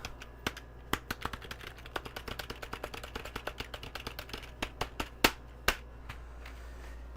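Rapid typing on a computer keyboard during a retro modding stream: a steady run of sharp, close key clicks with a few louder strikes near the end, with no voices.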